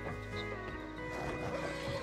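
A horse in the video game Blue Moon County whinnies, a tonal neigh over a steady game soundscape, moderately loud with no talk.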